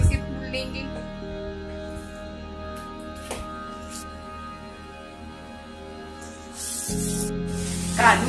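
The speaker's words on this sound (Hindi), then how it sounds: "इसमें हम काजू का पेस्ट डाल के और इसे भी 2 से 3 मिनट तक अच्छे से भून लेंगे" Cashew paste fries with tomatoes in a pan, giving a soft, steady sizzle and hiss with occasional stirring scrapes, then a louder burst of sizzling near the end.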